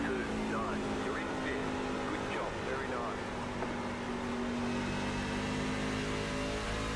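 A Chevrolet Silverado race truck in the iRacing sim laps Phoenix International Raceway, its engine a continuous, loud, steady drone with slight pitch swells throughout, while a person talks over it.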